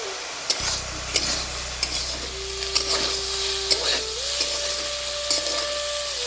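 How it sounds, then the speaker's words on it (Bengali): Mushrooms fry in hot mustard oil with salt and turmeric, giving a loud continuous sizzle broken by sharp scrapes of stirring, with a steady low hum in the background. "মাশরুমটা ভাজা হয়ে গেছে, উঠা নিব।"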